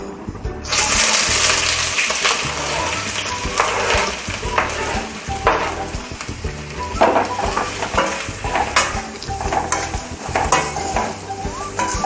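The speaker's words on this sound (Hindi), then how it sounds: "तो ये मेरा तेल है वो गर्म हो गया है और अब ये मैं सब्जियां हैं वो इसमें डाल रही हूँ" Chopped vegetables hit hot oil in a home kitchen pan, bursting into a loud, steady sizzle with occasional clinks of a utensil against the pan, lasting throughout with no talk.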